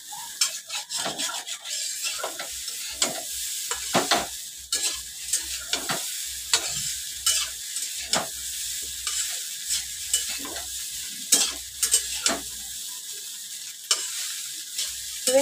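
Chowmein with fried potato and egg is stir-fried in a hot pan, a loud sizzle broken by rhythmic scraping and clanking of the spatula against metal, no voices.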